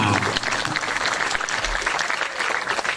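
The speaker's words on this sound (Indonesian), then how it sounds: "tepuk tangan buat panitia dan kita semua" Audience applause at the first event held at an Islamic boarding school, Pondok Pesantren Daarul Rahman Tempuling, a dense, steady wash of clapping filling the whole stretch at close range.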